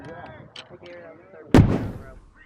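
A single loud musket volley fires at a Revolutionary War reenactment skirmish, one sharp boom that fades into a rumble, preceded by a commander shouting orders.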